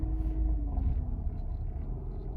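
A car that has just been started and already shows an engine over-temperature warning gives a loud, deep rumbling drone with a tone that slowly falls in pitch, heard close and alone.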